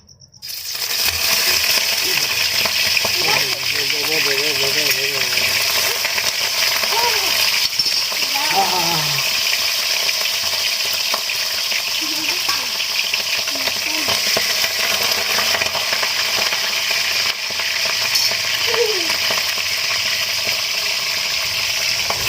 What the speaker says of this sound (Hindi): धीरे धीरे करके हमन एमा चिकन ला डालबो काबर की तेल है गरम है